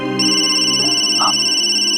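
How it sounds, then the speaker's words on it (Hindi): A telephone rings with a loud, steady electronic tone, its sustained harmonic ringtone filling the space up close, alone and without talk. "एक मिनट, फोन है।"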